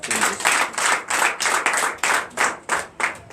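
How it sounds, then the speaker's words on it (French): A church congregation claps in steady rhythmic bursts, many hands together, loud and close, with no voices over it. "Donnez l'acclamation à Jésus."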